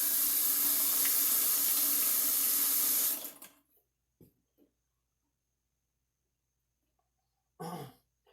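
Tap water pours loudly into a sink fitted with a plug stopper for about three seconds, then shuts off, followed by a few faint knocks and a short throat-clearing cough near the end.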